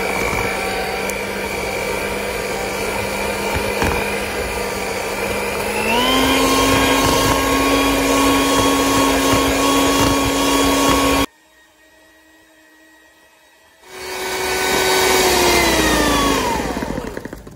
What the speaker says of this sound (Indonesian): kita mixer selama 2 menit ya,